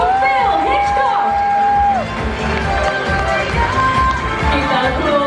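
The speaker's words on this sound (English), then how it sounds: "Keep that applause going as he leaves the stage" A cruise ship theatre audience keeps up loud applause and cheering with whoops as a comedian leaves the stage, a dense steady roar of clapping and shouts with an amplified voice talking over it.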